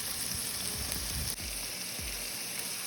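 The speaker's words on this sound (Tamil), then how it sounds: "இப்போ இதில் தக்காளியும் ஆட் பண்ணிட்டோம். இது நல்லா வதங்கட்டும்." Tomatoes, green chillies and beans sauté in a pan, giving a soft, steady sizzle with a few scraping stirs of a spoon against the metal; quiet and close, with no talking.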